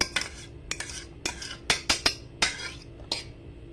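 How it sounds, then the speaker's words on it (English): Spinach being moved around a pan for a spinach frittata, heard as a string of sharp utensil clinks and scrapes against the cookware, close and fairly quiet, with no talking. "Kind of move your spinach around in there so"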